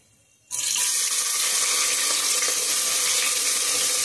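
Onions hit hot oil already seasoned with cinnamon, cardamom and cloves. A loud sizzle bursts in abruptly after a quiet moment and holds as a steady, close hiss.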